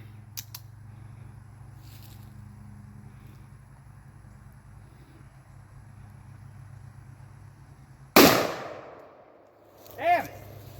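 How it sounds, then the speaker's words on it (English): A handgun fired outdoors at a jug, one loud, sharp, close shot cracking out after a long quiet stretch with faint background hum, followed by a brief ringing echo. "And we're going to shoot that jug."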